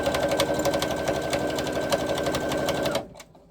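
A domestic sewing machine top stitching, running steadily and close with a rapid even needle rhythm for about three seconds before stopping abruptly into quiet.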